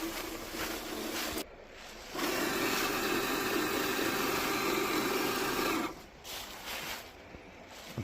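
A rig driving in front-wheel drive, with a steady low engine drone and rumbling that cuts out briefly a few times and returns, loud and close with no talk.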